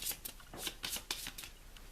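A deck of cards for the Pandemic Reign of Cthulhu board game is shuffled close by, a quiet series of crisp riffling and snapping bursts in irregular rhythm.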